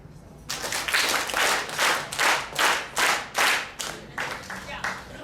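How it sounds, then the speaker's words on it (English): A group claps hands together at a breakfast gathering, a run of loud synchronized bursts in a steady rhythm, with light chatter underneath and softer claps toward the end. "we bring our hands to our chest and clap 8"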